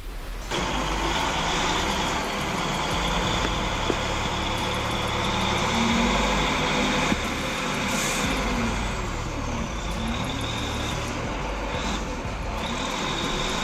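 A bulldozer works a construction site, shoving massive concrete blocks with its blade; its engine drones steadily and loudly for the whole stretch, a continuous heavy mechanical rumble with no talk.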